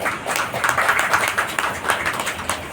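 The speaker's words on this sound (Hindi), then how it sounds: "बहनें तालियों के द्वारा आवाज में तारीफ" Women in a Brahma Kumaris gathering applaud to honour a speaker, steady dense clapping from a sizable group, close and fairly loud throughout.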